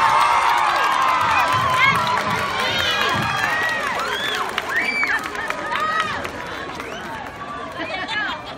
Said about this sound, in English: Give your parents, your family, your friends a standing round of applause as well.